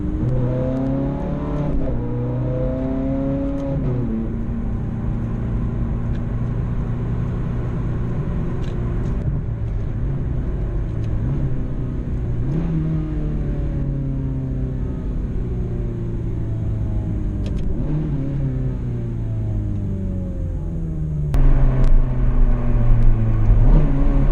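A Ferrari 430 Scuderia sports car revs hard while being driven, its engine pitch climbing and falling through repeated gear changes in a loud, continuous close-up drone with no talking.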